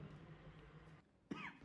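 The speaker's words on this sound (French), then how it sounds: "Il tousse." One person gives a single short, sharp cough after a quiet stretch of low murmuring background.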